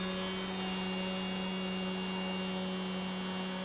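An electric fan runs steadily close by while skin cools during a chemical peel, giving a continuous even hum and whir with no change in pitch and no talking.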